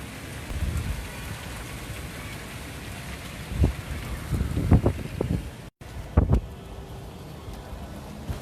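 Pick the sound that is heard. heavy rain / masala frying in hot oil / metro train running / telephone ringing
heavy rain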